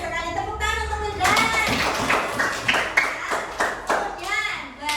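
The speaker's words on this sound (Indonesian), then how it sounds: "tepuk tangan untuk Wildan." Pupils in a classroom give a short burst of hand clapping for a classmate, with scattered claps and a voice audible before and during.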